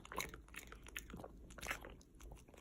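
Food crunches and is chewed up close in quick, repeated bites, soft but continuous throughout.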